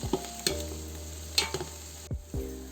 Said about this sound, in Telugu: ఇది ఒక 2 నిమిషాలు ఫ్రై చేసుకున్నాము